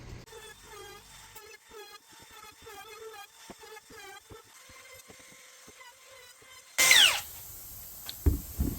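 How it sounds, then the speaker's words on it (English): A trim router chamfers the edge of a long wooden board for a basic table. It starts abruptly near the end with a loud, rising whine and cutting roar that lasts only a couple of seconds. "And with these longer boards, I kind of prefer a trim router."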